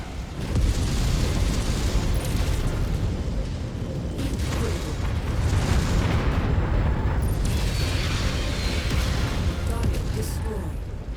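A target blowing up in the MechWarrior 5 video game, with a continuous loud, rumbling roar of explosions and heavy mechanical combat noise that swells and fades over several seconds, under an intermittent game voice.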